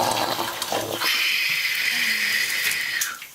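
Hot water pours steadily over noodles in a pot, a continuous splashing rush that runs for a few seconds and then fades out.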